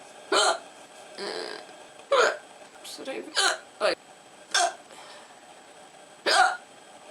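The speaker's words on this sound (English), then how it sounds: "Oh, I've got the hiccups." Sharp hiccups break out several times at uneven intervals, close and fairly loud, with a person talking briefly between them.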